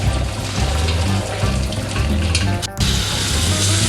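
Boiled spaghetti water poured off to drain in a kitchen, a steady close rush of splashing water running throughout, briefly interrupted near the end.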